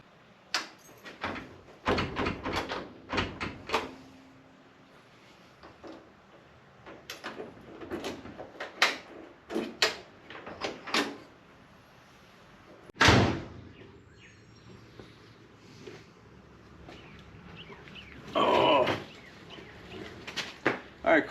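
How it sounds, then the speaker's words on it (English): A door on a 1960 Ford F100 pickup being shut and latched during a frame swap, with a sharp metallic slam and clunk standing out among scattered knocks, clicks and shop noises. "in the meantime, I can close the door"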